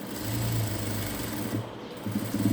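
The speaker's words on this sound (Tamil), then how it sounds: "ரெண்டாவது தையல் போட்டாச்சு அடுத்தது மூணாவது தையல்" Sewing machine stitching the side seam of a chudidar, a close, steady mechanical whir of rapid needle strokes that briefly slows and then picks back up.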